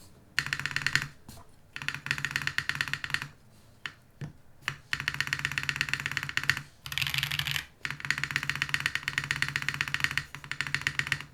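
Typing on a mechanical keyboard fitted with Swag Keys keycaps gives a steady run of loud, close, slightly thuddy keystrokes in bursts, broken by short pauses.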